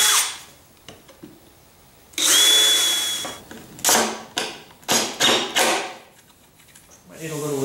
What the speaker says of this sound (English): So we're gonna put some screws in here.